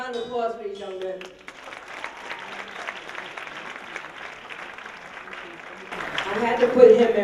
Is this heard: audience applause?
yes